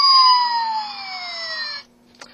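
An electronic siren wail from a RiD Optimus Prime toy truck, a loud tinny tone sweeping downward for nearly two seconds, then cutting off abruptly, followed by a faint click.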